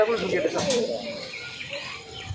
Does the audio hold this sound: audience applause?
no